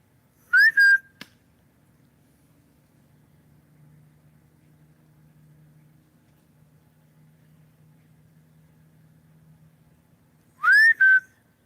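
Two short whistled notes at an Ohio River camp, each a quick rising slide onto a held pitch, separated by about ten seconds of quiet low rumble from a river barge.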